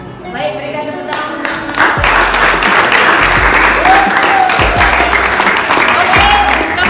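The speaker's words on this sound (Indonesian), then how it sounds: "berikan tepuk tangan." A classroom of students claps for a fellow student, dense and loud applause swelling after a brief lead-in and holding steady to the end.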